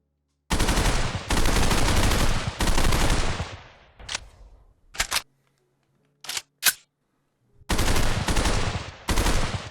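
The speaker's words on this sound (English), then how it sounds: "You take out your gun, insert the magazine, drag a handle, switch to auto, and shoot." Full-auto bursts from an M4 rifle in an Unreal Engine 5 VR shooter: several long, loud sustained volleys, broken by short single shots and mechanical clicks of handling the weapon, with no talk.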